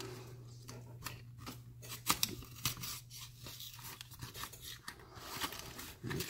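A knife cuts and tears open the plastic packaging of an Ace 29mm padlock, with quiet close scraping, slicing and crinkling sounds in irregular bursts, no talking.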